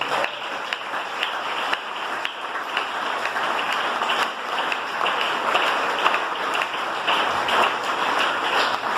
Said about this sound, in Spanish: Den ese aplauso al Señor.